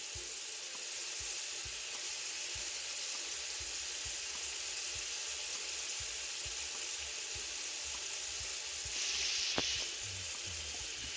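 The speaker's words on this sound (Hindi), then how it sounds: "इन्हें हम लो फ्लेम पे ही फ्राई करेंगे।" Potatoes and peas fry gently in oil over a low flame, giving a continuous soft, even sizzle heard close with a brief brighter flare near the end and no one talking.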